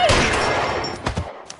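Gunfire in the video game L.A. Noire, a quick burst of several loud shots cracking close together, then a couple of scattered shots as the noise trails off.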